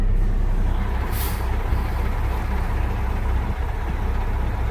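Air brake on a semi trailer releasing pressure while sliding the tandems, a steady loud hiss of escaping air over a low idling truck engine, with a brief brighter burst of air early on.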